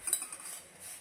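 Dishes and cutlery clink faintly while being washed, a brief, quiet scatter of light metallic knocks over soft background noise.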